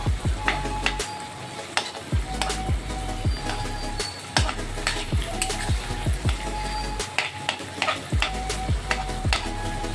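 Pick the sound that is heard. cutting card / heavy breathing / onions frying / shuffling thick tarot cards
onions frying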